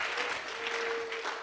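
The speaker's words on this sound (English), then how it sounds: "He deserves a larger round of applause than that." An audience claps in a steady, dense burst of applause at a live talk show taping, filling the short stretch without pause.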